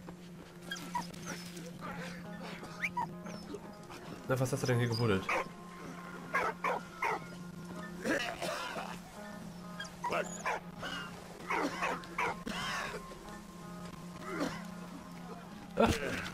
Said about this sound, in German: Der Hund hat da was.